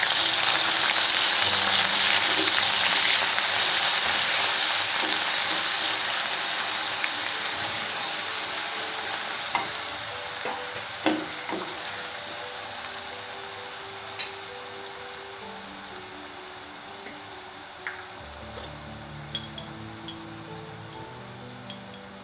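Chopped onion with garlic-ginger paste cooking on low gas for jackfruit bhaji, a steady soft sizzle running throughout with occasional faint clicks and scrapes from stirring, with no talk.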